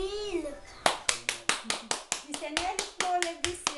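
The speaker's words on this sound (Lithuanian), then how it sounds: "Senelis ploja visi." A family claps their hands together for a small child, a run of about a dozen sharp, evenly spaced claps close by, mixed with voices and child sounds.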